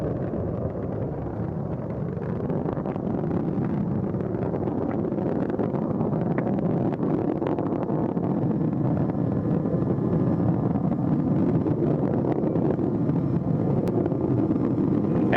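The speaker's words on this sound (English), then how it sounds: "Engines now revving up," The main engines of the Space Shuttle Atlantis roar during its final launch as it climbs through throttle-up. It is a continuous, heavy, rumbling roar heard from a distance, steady and broadband, with wind-like buffeting and no voices.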